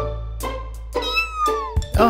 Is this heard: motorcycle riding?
no